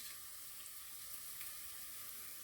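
Steady, hissing sizzle of spices frying in a hot pan for red lentil dal, constant and fairly close, with faint crackles and no voices.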